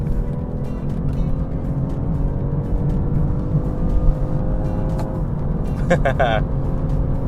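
2023 BMW G42 220i accelerating at full throttle out of a roundabout, a steady droning engine note heard from inside the cabin with a brief clicking near the end, no talk.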